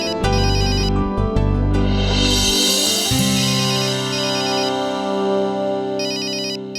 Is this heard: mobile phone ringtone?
yes